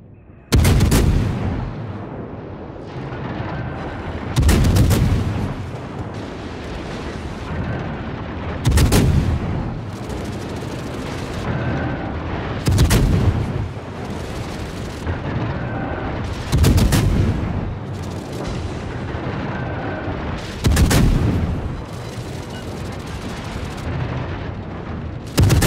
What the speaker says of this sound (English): aircraft gun crews are on full alert.